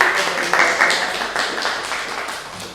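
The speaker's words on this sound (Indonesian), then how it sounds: "Beri tepuk tangan dulu." A small classroom group claps together, a continuous patter of hands at moderate loudness that slowly tapers off over a few seconds.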